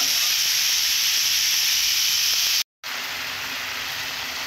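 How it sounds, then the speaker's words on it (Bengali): Meat browns in a pan during slow sautéing for a spiced meat kosha, giving a steady, dense sizzling hiss that cuts out briefly before resuming. "এইভাবে কিছুক্ষণের জন্য কষে নেব।"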